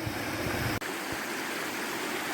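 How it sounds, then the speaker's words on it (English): Crowden Little Brook in the Peak District flowing above a waterfall, a continuous close rushing of water with a brief dropout near the start, alone without voices. "So here's the main flow of Crowden Little Brook"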